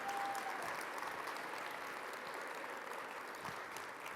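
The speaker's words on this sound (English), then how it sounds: "I'm going to give one more round of applause." Steady applause from a crowd at a scientific conference presidential address, soft and distant, continuing without a break for several seconds.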